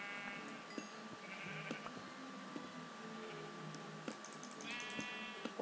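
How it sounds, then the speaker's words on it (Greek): Sheep bleat in a video game, a few wavering calls at low volume amid soft in-game ambience, light clicks and ticks. "Θα σκοτώσω όλα τα πρόβατα εδώ γύρω."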